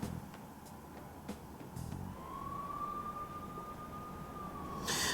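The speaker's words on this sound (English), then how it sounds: "Look at all those police cars." A police car siren from a video game rises into a long, steady wail in the distance, with soft clicks and thuds from the scene before it and a brighter burst at the end.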